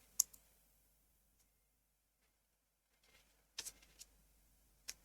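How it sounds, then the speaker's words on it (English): Sharp, isolated mouse clicks at close range: one at the start, a small cluster of quick clicks a little past the middle, and one more near the end, with near silence between them. "scroll down and click Publish Release"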